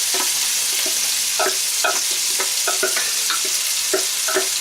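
Ground onion, garlic and ginger sizzling in hot oil for chana masala: a bright, constant hiss with repeated spoon scrapes and taps in an uneven rhythm, close up and with no talk.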